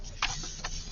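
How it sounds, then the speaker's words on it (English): A printer runs in the background, giving a low steady hum with two brief brighter clicks or paper-feed bursts as it prints double-sided on tan paper. "You can hear my printer in the background."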